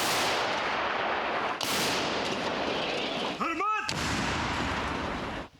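A howitzer blast booms loudly, followed by a second roaring discharge, with a brief shouted command between them.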